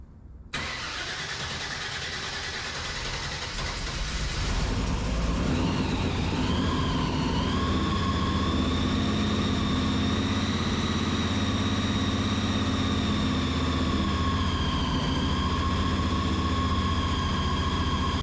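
A 1972 Opel GT's 540 big block with an 871 blower fires up and settles into a steady, loud idle with a raised whine running throughout, the pitch drifting slightly as revs hold high.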